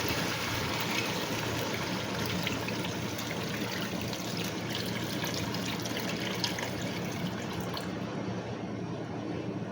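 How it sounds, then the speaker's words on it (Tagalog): Water poured into a cooking pot for salmon head sinigang with kangkong, a continuous soft trickling and splashing stream at close range that holds steady throughout before stopping near the end. "Maglalagay na po ng tubig."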